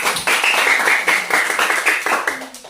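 A group claps steadily and continuously, a dense patter of many hands at fairly close range, with no one speaking, as a classroom applauds a student group's presentation.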